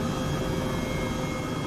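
Simulated helicopter in Microsoft Flight Simulator 2020, flying toward Iceland's Fagradalsfjall volcano, gives a steady, unbroken engine and rotor drone that holds at a constant level throughout with no voices.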